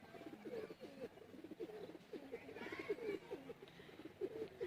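A large high-flyer pigeon cooing softly and repeatedly nearby in a quiet setting, low rhythmic coos with faint background noise.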